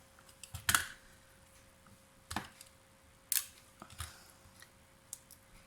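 Scissors snip through die-cut poppy paper elements for a handmade Stampin' Up! card, giving a few sharp, close cuts spaced irregularly over a quiet room with no talking.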